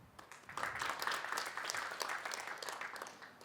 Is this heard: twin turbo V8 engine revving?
no